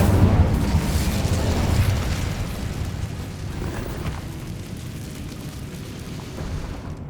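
Incendio fire spell cast in Hogwarts Legacy, a loud roaring burst of flame that surges at once and then slowly dies into a sustained rumbling whoosh, with no talking over it.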